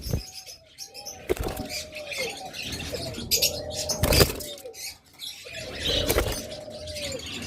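Pet turquoise forpus parrots in a cage give short rising chirps between loud fluttering wingbeats and sharp thumps, close by and repeating throughout.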